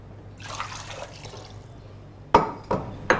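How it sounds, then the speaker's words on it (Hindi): Water splashing and dripping into a pot of mixed vegetable curry, a soft trickle followed by three sharper splashes toward the end, close and fairly quiet with no talk. "पानी और डालेंगे इसमें।"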